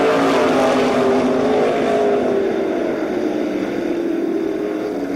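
A pack of race cars roars around the Columbus Motor Speedway oval during a main event, engines droning loud and steady with a slowly falling pitch as the field passes.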